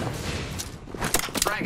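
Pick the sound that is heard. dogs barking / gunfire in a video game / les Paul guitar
gunfire in a video game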